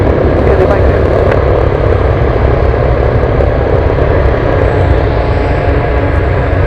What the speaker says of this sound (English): C-130 taking off from Elmendorf